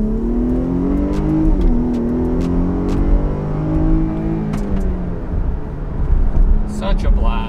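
Engine of a 2021 Jeep Grand Cherokee in sport mode, accelerating loudly from inside the cabin, with a rising droning tone through several gear changes and someone talking over it.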